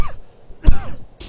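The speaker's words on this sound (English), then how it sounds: "Need a cough as well, I think." A single close cough followed by brief throat clearing from a man indoors, short and fairly loud against near silence.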